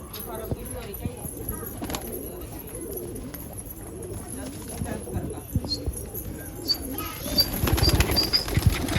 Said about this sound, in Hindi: सीटी सीटी पे उठ जा रहे हैं कबूतर।